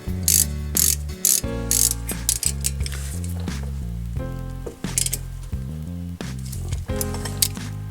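A ratchet tightens the front brake caliper slide bolt on a 2005 Toyota Corolla, loud close rapid pawl clicking in repeated runs of strokes with short pauses between.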